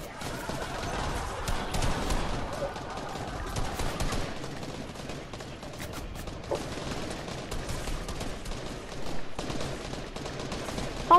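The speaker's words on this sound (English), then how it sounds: "Oh crap, I'm getting shot at." Video game gunfire crackles in rapid, dense bursts that run almost without a break, with faint voices underneath.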